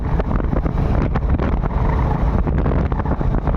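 A motorbike rides along, its engine droning steadily beneath loud wind buffeting the microphone throughout.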